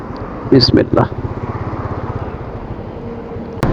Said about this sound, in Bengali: এখন আবার আমি বাইক চালাচ্ছি